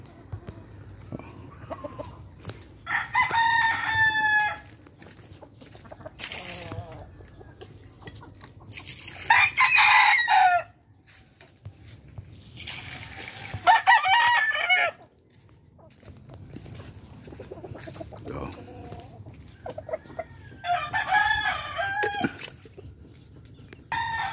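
Chickens and roosters in a breeding pen cluck and crow loudly in several separate bursts, with a soft background hum between calls.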